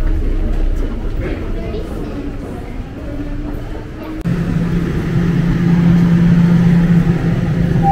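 Subway train at Bloor station in Toronto, a steady close rumble from inside the car with a rising hum as it moves, while a person talks over the noise.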